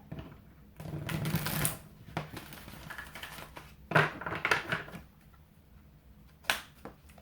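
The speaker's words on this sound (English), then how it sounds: "Oh, this deck didn't want to shuffle again." A tarot card deck is shuffled in several quick riffling bursts, the longest early on and shorter ones later, close and moderately loud with quiet pauses between.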